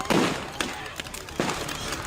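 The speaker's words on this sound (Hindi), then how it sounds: "दनादन गोलियां चल रही हैं" A few sharp, cracking gunshots ring out at irregular intervals during street unrest with tear gas and thrown stones, over a noisy, busy background with some indistinct voices.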